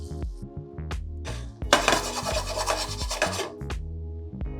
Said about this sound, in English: I'm just going to stir this so that all the crumbs can get a little of that butter olive oil love